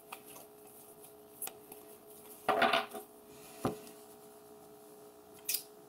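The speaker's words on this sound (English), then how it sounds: "I'm just kind of shuffling in case you guys can't see what I'm doing." Tarot cards are shuffled by hand in a quiet room, giving soft papery riffles and taps with a denser flurry of slapping cards near the middle and a few sharp isolated clicks, fairly close and alone with no talk.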